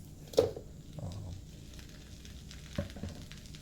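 Chicken fried rice with vegetables sizzles quietly in a wok as it is stir-fried, with a couple of sharp scraping clacks of the spatula against the metal over a soft, steady frying hiss.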